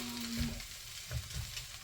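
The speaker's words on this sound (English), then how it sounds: "now we'll put the eggs in too." Eggs frying in a hot pan for homemade egg hakka noodles, a soft continuous sizzle with a few faint stirring scrapes and bumps, quiet and close.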